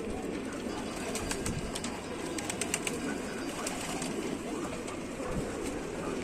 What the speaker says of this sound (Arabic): بصوا يا رجاله الحمام على طبيعته